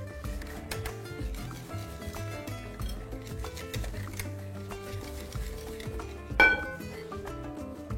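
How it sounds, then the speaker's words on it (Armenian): Flour being stirred spoonful by spoonful into wet brownie batter with banana and chocolate, with soft, quiet clinks and scrapes of a utensil against a bowl. One sharper knock comes near the end. "գթալ առ գթալ ավելացնում ենք ջրիկ բաղադրիչների վրա և հարում ենք"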